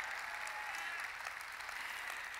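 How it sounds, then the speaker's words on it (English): A crowd at a national teachers' union leadership summit applauds steadily, a dense, even wash of clapping and cheering that holds at one level throughout, heard from a moderate distance in a large hall. "and the crowd goes wild"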